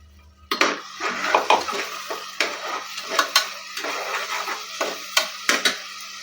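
Metal pan and utensils clatter and scrape in a home kitchen as ginger garlic paste goes in, a run of sharp, close clinks and knocks in uneven rhythm, with no talking.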